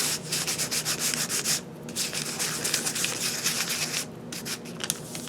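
A nail file rubbed back and forth across a rubber stamp, rougher grit, a steady close scratchy rasping with quick regular strokes and two short pauses, no talking.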